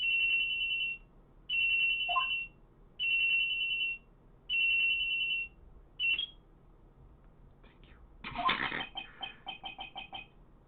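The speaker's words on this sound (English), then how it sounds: "At around 10:30, I received a call on my cell phone." A cell phone ringtone in the Phoenix Wright: Trials and Tribulations video game, four repeated beeping bursts at a steady rhythm followed by a busier chirping jingle, clear and alone.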